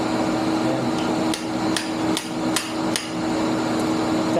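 A metal punch is struck against the end of a socket to tap it loose, five or six sharp, evenly spaced hammer taps over a steady background hum in a workshop.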